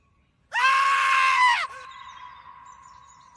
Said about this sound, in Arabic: عارفين الفيديو الحيوان اللي بيصرخ في وسط الغابة ده؟